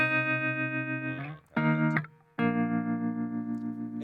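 Electric guitar run through the tremolo mode of a Strymon Flint pedal, sustained chords pulsing in steady volume waves, cutting out briefly twice before ringing on, close and alone with no talk.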